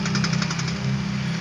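A car engine runs rough with a heavy, knocking, jackhammer-like rattle that stays loud and steady for about a second and a half, without fully cutting out.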